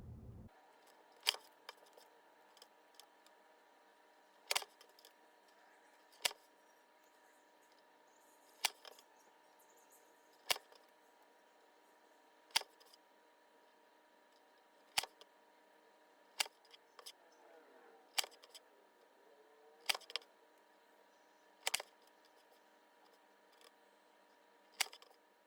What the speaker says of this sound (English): I'll just go ahead and kind of cut the rest of the paper